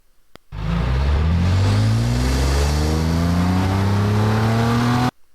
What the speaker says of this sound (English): This is engine deceleration.